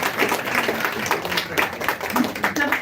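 An audience at a school annual day celebration claps in a dense, continuous patter of many hands, moderately close, with a voice talking over the applause.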